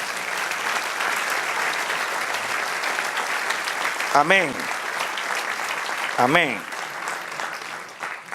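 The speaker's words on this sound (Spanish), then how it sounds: "Dale un aplauso al Señor." A church congregation applauds during a sermon in a steady, dense wash of clapping, while voices call out twice partway through.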